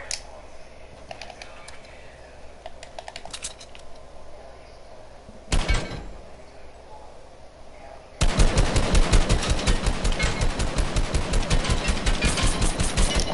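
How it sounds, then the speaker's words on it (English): Video game gunfire: sparse shots early, one loud blast near the middle, then a sustained rapid burst of automatic fire filling the last five seconds, loud and close. "Gunshots."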